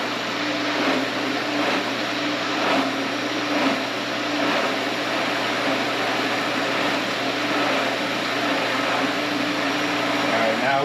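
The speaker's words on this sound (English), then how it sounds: "I need to flip the pump on" A pool pump on a DE filter system running after being switched on while it primes, giving a steady broadband whir and rushing drone that stays constant throughout, with a person talking over it.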